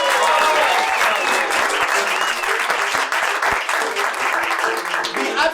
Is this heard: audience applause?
yes